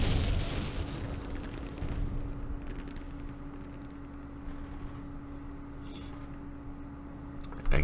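Recoilless rifle fire in the Campaign Series Vietnam wargame, Lam Son 719 scenario: a booming blast rolls out at the start and decays into a long rumbling tail over a steady low hum, with a sharp second burst at the very end.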